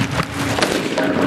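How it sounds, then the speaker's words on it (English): Gunfire and homemade bomb blasts during street clashes in Gaza, a loud, dense roar of bursts and cracks that keeps going without letup, with a sharper report near the middle and no clear speech. "The militants were using live ammunition, bullets, shells,"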